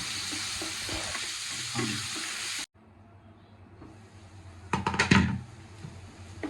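Green chillies frying and stirred in hot oil give a loud sizzle that cuts off abruptly, returns quietly, then builds into a burst of crackling and spatula scrapes near the end.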